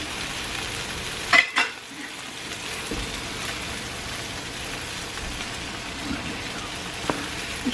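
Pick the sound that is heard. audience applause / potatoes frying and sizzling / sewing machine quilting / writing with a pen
potatoes frying and sizzling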